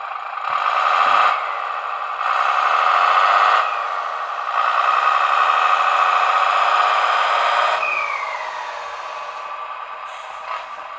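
A ScaleART MB Trac RC tractor drives with a steady electric motor whine that steps up and down as gears shift, loud and close, with a brief rising tone near the end.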